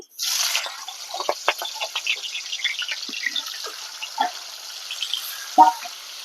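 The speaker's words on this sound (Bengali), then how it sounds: "তেল গরম হয়ে গেছে এবার আমি চিংড়ি মাছগুলোকে ভেজে নিচ্ছি" Shrimp rubbed with salt and turmeric fry in hot oil in a home kitchen, making a steady close sizzle with frequent small crackles and pops.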